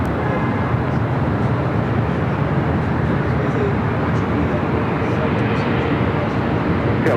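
An airliner roars steadily down runway 24 Left at LAX on takeoff, a loud, broad, continuous rumble with no break and no talk over it.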